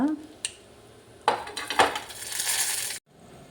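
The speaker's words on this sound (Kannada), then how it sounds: "ಈಗ ಬಿಸಿ ಬಿಸಿ ಸಾರಿಗೆ ಬಿಸಿ ಬಿಸಿ ಒಗ್ಗರಣೆ ಕೊಡುವ" Hot tempering is poured into a pot of Mangalore cucumber sambar, giving a metal clink of utensils and then a loud, rising hiss and sizzle that lasts about two seconds before cutting off.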